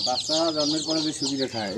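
Free-range native (deshi) chickens on a large farm in Barisal, clucking in a run of short, close, fairly loud calls that fill the brief moment.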